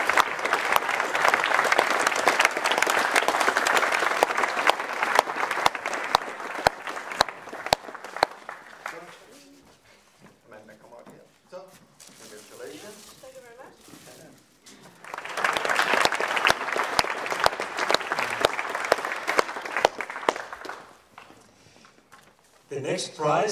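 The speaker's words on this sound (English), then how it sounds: "So give her a big round of applause." A crowd at an awards ceremony claps loudly for a prize winner for several seconds, drops to quiet rustling and murmurs, then bursts into a second round of dense applause before tapering off.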